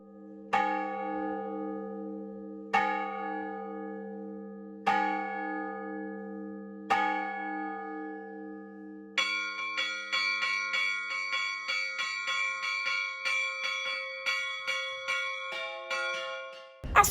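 Church bells in Mariana, Brazil ring out, first in slow single strokes, then breaking into a lively, fast festive peal of several bells, loud and resonant.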